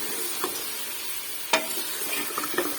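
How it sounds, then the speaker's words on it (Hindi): Mutton and tomatoes fry in a pot with a continuous close sizzle, broken by a few sharp scraping stirs, one of them louder midway. "भुनाई करेंगे तकरीबन 5-10 मिनट की भुनाई होगी"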